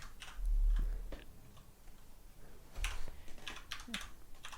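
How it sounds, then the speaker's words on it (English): Someone types on a computer keyboard during a podcast recording, quiet scattered clicks and key taps in short bursts with low thumps, close but faint. "he is typing on his keyboard right now"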